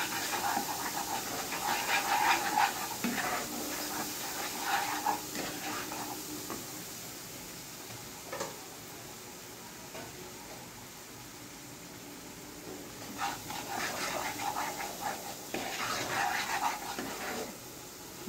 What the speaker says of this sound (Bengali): তারপর মশলাটাকে বেশ কিছুক্ষণ কষিয়ে নিতে হবে